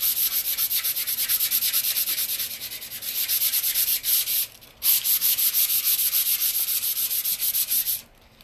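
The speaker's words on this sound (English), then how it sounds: "I'm gonna kind of go over the edge a little bit more than that, and we're just gonna sand." Hand sanding a painted wooden furniture piece, with quick rhythmic back-and-forth scratchy strokes, loud and close, briefly pausing midway and stopping near the end.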